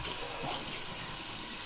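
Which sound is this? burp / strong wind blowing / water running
water running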